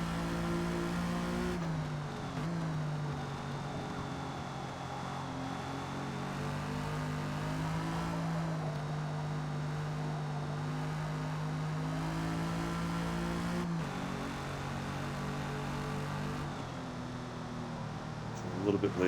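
A 1956 Jaguar D-Type in Forza Motorsport holds a steady, droning engine note at near-constant revs, with slight throttle dips and pitch shifts as it crests a hill, continuous and close throughout.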